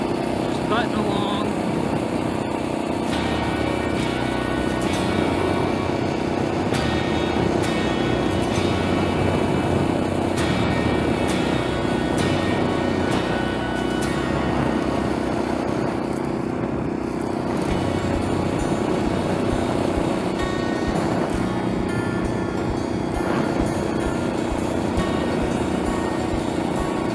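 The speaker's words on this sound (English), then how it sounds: "Engine still seems really good and happy." A Honda GX120 four-stroke engine on a motorized bike drones steadily during a mountain ride, a continuous buzzing hum under passing wind and road noise.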